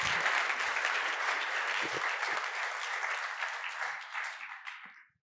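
An audience applauds to welcome a speaker at an architecture school open house evening, a full sustained clapping from many hands that holds steady and then tapers off and stops.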